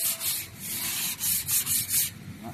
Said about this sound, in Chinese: 这个用180的砂纸把它搓平